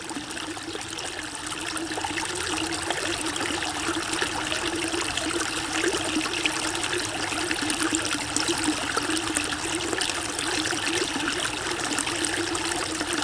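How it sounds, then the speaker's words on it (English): Water flowing in a creek, a continuous trickling and babbling stream that stays close and fairly loud, steady throughout with no voices. "That's water."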